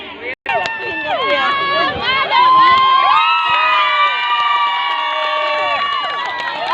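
A crowd at a local sports closing and award ceremony in Khu Mueang, Buriram, Thailand, cheers loudly. Many high, excited voices, largely children, shout and whoop together in a dense, sustained burst after a brief pause.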